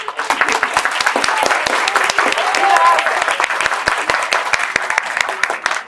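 An audience at a youth-literature festival panel in São Paulo breaks into loud, sustained applause, dense overlapping claps filling the room for several seconds with some voices mixed in.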